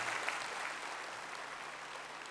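A political rally crowd claps steadily for a couple of seconds, a dense wash of hand claps with no voices on top.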